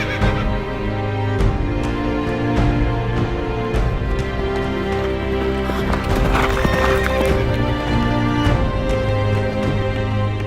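Horses at a historical reenactment race, hooves clip-clopping steadily and loudly with repeated neighs and whinnies over crowd murmur, the galloping rhythm continuing throughout.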